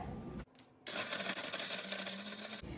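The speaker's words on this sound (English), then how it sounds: "We'll blend the breadcrumbs in our mixer." Mixer grinder whirring as it blends breadcrumbs for mutton cutlets, a short burst after a brief pause that runs for nearly two seconds at steady speed before cutting off.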